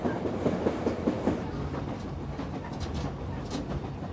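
An Alaska flag-stop passenger train rolls along the rails, with rhythmic clickety-clack of wheels over rail joints at moderate distance, steady rumble underneath and some faint bird calls.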